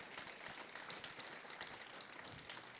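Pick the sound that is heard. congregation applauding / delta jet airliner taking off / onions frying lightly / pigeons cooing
congregation applauding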